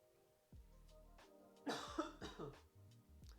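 Several muffled coughs and a throat clearing from someone turned away from the microphone, a short burst of hacks near the end of the moment, over a low steady hum.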